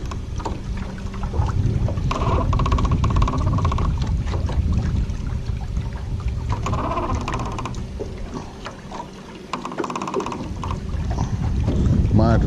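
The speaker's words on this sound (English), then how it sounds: "44 degrees and the wind's blowing pretty hard." Strong wind buffets the microphone while fishing at a pond on a cold 44-degree day, a constant low roar with rustling gusts throughout, and a voice can be heard over it.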